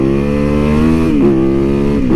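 A motorcycle engine revs loudly and steadily on a cold winter road, its strong harmonic drone rising and dipping slightly twice over a couple of seconds with no one speaking.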